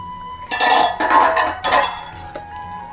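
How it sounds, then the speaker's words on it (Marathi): A metal lid lifted off a cooking pan, with clattering metallic clinks in a few bursts over a steady background hum, close and fairly loud, during preparation of a traditional Konkan layered steamed rice crepe. "आपण झाकण काढूया."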